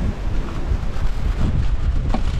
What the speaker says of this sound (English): it's kind of windy, so that's why not that much talking